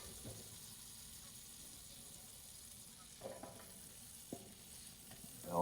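Asparagus spears sizzling in butter in a hot pan, a steady quiet frying hiss with a few louder crackles and pops toward the end.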